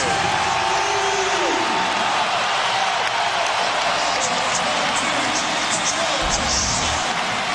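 Steady roar of a home crowd cheering at a Mavericks basketball game against the Suns, a dense continuous wash of noise with a commentator talking over it.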